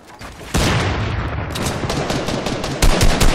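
Loud, rapid bursts of Fortnite gunfire, sustained automatic shots that start abruptly and keep going in dense volleys.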